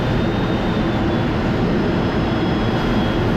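Constant loud jet roar from inside the cockpit of an F-16 Fighting Falcon fighter jet during an overhead break, a dense steady rush with a faint high whine running through it, and no voices.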